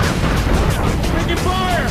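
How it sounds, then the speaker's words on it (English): Gunfire in a PlayStation shooter game, a dense, continuous rumble of shots and explosions filling the short stretch, with a voice faintly underneath. "Taking fire!"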